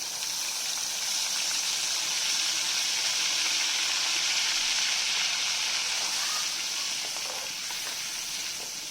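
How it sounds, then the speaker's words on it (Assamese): Onion paste sizzles in hot oil for a chicken drumstick dish, a steady bright frying hiss that holds strong throughout with faint stirring scrapes. "এতিয়া মই পিঁয়াজ বাটাখিনি দি দিওঁ।"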